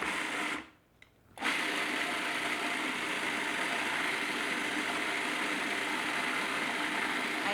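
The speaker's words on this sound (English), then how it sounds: "I know when my batter's done because it starts to ball and turn around in the food processor." A food processor whirs through cookie batter with a steady motorized drone, briefly cut off in a short pulse pause near the start before resuming at full, even loudness.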